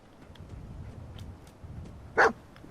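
Dogmeat, the dog in Fallout 4, gives a single sharp bark near the end of a short stretch of low game ambience.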